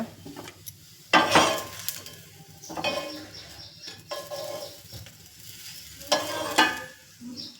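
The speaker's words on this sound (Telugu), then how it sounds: "పెసరట్టు వేస్తున్నాను ఇక్కడ" Cookware clatters and scrapes over a steady sizzle, with several loud bursts of frying noise as moong dal dosa (pesarattu) batter hits a hot pan.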